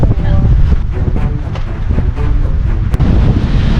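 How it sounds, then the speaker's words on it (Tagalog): Loud, buffeting wind roars against the microphone in a constant low rumble on a beach in Infanta, Quezon, with gusts swelling and easing throughout. "Lakas ng hangin dito sa tabing dagat."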